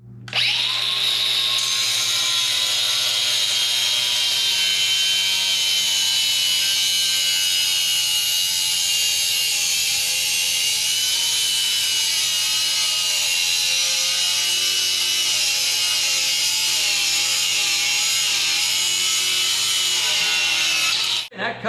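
Metal piece clamped on a titanium Harbor Freight welding table being cut off with a power tool, a loud steady high-pitched whine with a grinding edge that runs continuously for about twenty seconds, close and alone.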